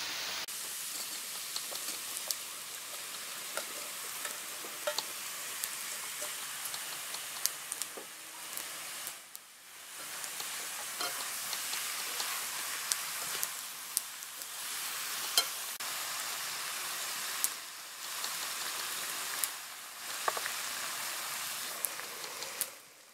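Sweet and hot peppers fry with stewed carrots in a pan, giving a continuous loud hiss and sizzle close up, with occasional stirring scrapes and brief dips where the frying quiets before it returns.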